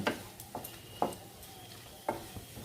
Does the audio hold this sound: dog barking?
no